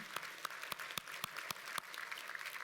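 Graduates clap to thank friends and family at a Victoria University graduation ceremony, a moderate, fairly sparse applause with distinct separate claps at an even rhythm, heard from the stage area without voices.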